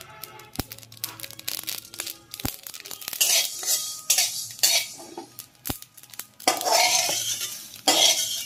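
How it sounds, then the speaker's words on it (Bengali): Whole black mustard seeds are roasted and stirred in a pan, with sharp metallic clinks and scrapes of a spoon, plus rattling and bursts of sizzle that grow louder toward the end. "এবার আমি ভেজে নেব গোটা কালো সর্ষে।"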